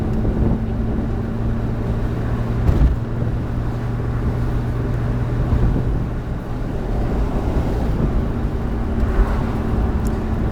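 A Honda Odyssey engine-swapped Miata cruising down backroads, its steady engine drone and road rumble heard from inside the car, loud and continuous, with wind noise over the microphone and no talking.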